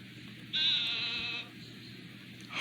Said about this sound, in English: Hi, goat.